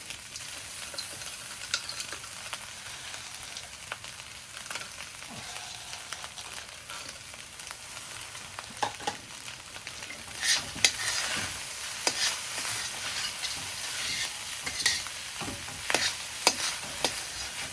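Peas, carrots, bean sprouts and shrimp stir-fried for shrimp fried rice, with oil sizzling steadily in the pan and repeated scraping strokes of a spatula stirring, growing louder and busier toward the end.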